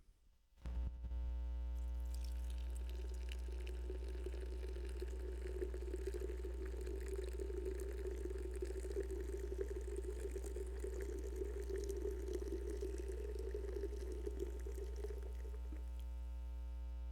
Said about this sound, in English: So let's give this drink a pour right now.